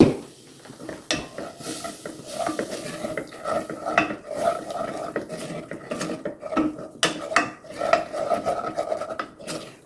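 A spoon scrapes and clinks against the bottom of a pan of peppery sausage gravy, repeated close rasping strokes with metallic knocks in an uneven rhythm.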